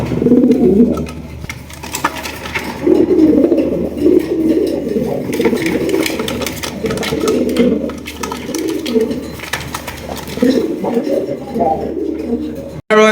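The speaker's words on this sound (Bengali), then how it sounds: "আমাদের কাছে দুই পেয়ার রেড কালারের বোম্বাই কবুতর আছে" Red Bombay pigeons cooing in a low, continuous throaty murmur from several birds close by, steady and fairly loud throughout.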